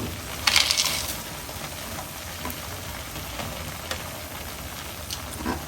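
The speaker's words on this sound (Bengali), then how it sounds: "আমি এই বাদামগুলো ভেজে রেখেছি ভাজা এবং গুঁড়া করছি" Roasted nuts are being crushed nearby, with a loud gritty burst of crunching early on and then quieter scraping and grinding that goes on underneath.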